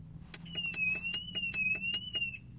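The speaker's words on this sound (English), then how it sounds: "It'll lock the locks, open the locks, pop the trunk, sound the alarm." A 2007 Mercedes-Benz S550 alarm set off from the key gives a steady high electronic tone that wavers slightly, with rapid regular chirps pulsing through it for about two seconds over a low background hum.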